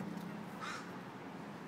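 Crows caw faintly in the distance, one short call standing out briefly over low background noise.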